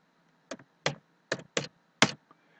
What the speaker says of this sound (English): if I type time and then type the time in New York